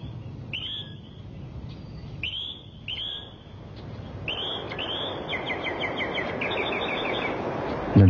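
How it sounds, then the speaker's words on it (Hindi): Birds call in a natural hillside setting, with several clear, repeated whistling chirps standing out above a steady hiss of wind or flowing water that grows louder toward the end. "पक्षियों का चहचहाना"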